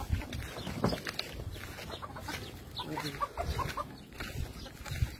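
Chickens cluck in a series of scattered calls at a livestock farm in Saudi Arabia, faint and somewhat distant, over rustling background noise.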